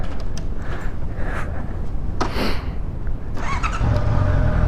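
A motorcycle engine revs and accelerates nearby, a steady rough roar with rising surges and wind noise, no talking.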